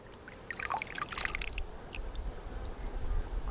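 Running water splashes and trickles steadily while rinsing scraped residue off a surface, with a continuous close wash of sound and scattered splatters.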